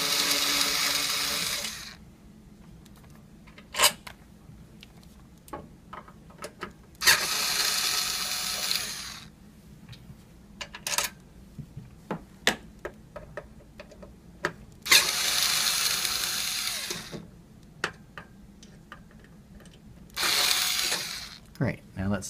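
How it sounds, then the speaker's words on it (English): Screws are undone from the lock body of a SafeLogic Xtreme safe lock: four bursts of a whirring power driver, each about two seconds long, with small clicks and ratcheting sounds between them. "now undo the 3 screws that hold the lock body in place"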